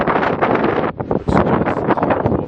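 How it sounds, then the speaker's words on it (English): Strong wind buffeting a microphone outdoors on a hilltop hiking track at dawn, a loud, rough, roaring rumble that gusts continuously, dipping briefly before surging again; a voice starts to speak at the very beginning. "It's a bit bloody windy up here."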